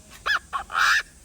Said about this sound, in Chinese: 不像鸡哥，我听到他叫声太吵了